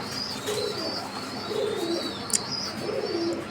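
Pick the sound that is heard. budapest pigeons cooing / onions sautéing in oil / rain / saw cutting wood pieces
budapest pigeons cooing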